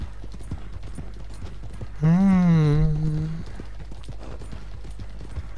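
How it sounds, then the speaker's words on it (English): Horse hooves clip-clop steadily at a walk in the open-world game Red Dead Redemption 2, riding through grasslands and fields with a music-like harmonic tone rising midway over the continuous hoof rhythm. "I love those horse sound effects."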